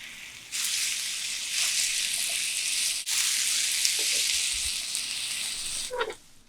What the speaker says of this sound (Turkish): Patatesleri bitkisel yağda kızartın.